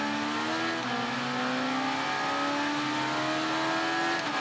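A motorcycle in the Ride 3 racing game, early 90s career mode, drones and revs with a sustained whining engine tone that climbs steadily through a gear, loud and continuous with no speech.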